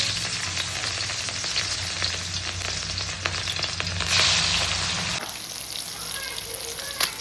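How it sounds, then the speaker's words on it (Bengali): Marinated katla fish pieces crackle and sizzle continuously in hot oil in a home kitchen, a dense close-up frying hiss that drops in level near the end. "মাছ ভাজা চলছে"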